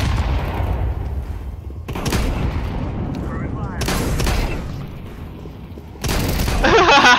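Gunfire from a Counter-Strike 2 match comes as several loud sharp shots and a burst of rapid fire, some close and some further off, broken up by clicks and weapon handling, with players' voices talking over it.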